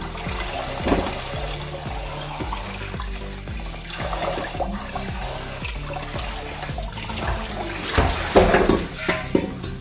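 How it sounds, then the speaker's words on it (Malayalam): Mutton pieces washed under running water in a kitchen sink, continuous splashing and trickling with clunks of meat and bone being handled, close and fairly loud. "നന്നായിട്ട് കഴുകിയെടുക്കാം."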